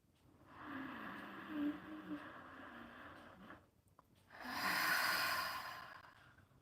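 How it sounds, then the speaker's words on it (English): Deep dragon's breath breathing exercise: long slow inhalations and exhalations drawn deep into the lungs, a rough breathy passage followed by a louder, forceful exhale near the end, close and alone with no talking. "talk about the dragon's breath, the breath when you're breathing"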